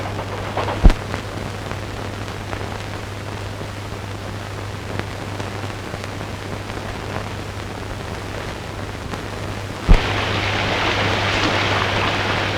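Heavy rain falls as a steady, even hiss throughout, with a couple of brief sharp knocks and the downpour growing louder and brighter near the end.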